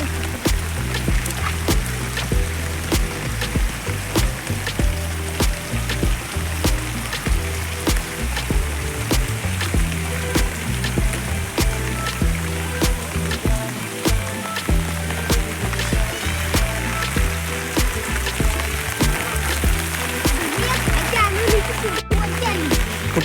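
Water splashes outdoors during heavy rain in Dombivli, a dense steady wash of splatter and patter running throughout, with voices talking over it at times.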